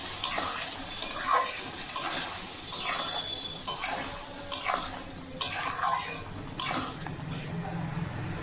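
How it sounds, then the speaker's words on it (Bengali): Bhola fish frying with mustard spice paste in a pan, stirred with repeated scraping strokes against the metal over a soft background sizzle, close and moderately loud. "এবার যে আমরা মশলার পেস্টটা করে রেখেছিলাম সেটাকে এর মধ্যে দিয়ে দেবো। ভালো করে নাড়াচাড়া করে নেব।"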